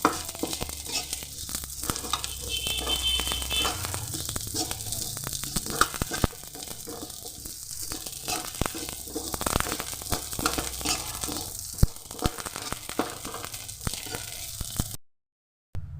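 Gond (edible gum) frying in a pan while being stirred continuously, a close crackling sizzle with scraping and rustling strokes, ending in a sudden cut to silence.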